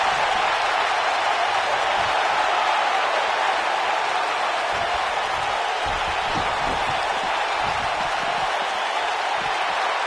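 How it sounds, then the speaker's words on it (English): A dense crowd roar hisses steadily throughout, loud and unbroken, like an arena audience cheering in the video game WWE 2K19, with faint low thuds beneath it. "by the sound of this crowd, I think they're getting what they wanted"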